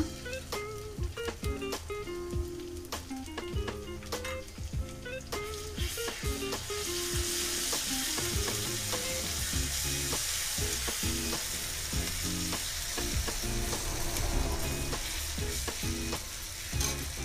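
Onion and garlic fry in a pan. Irregular clinks and scrapes of stirring come first, then a steadier, louder sizzle takes over and holds to the end.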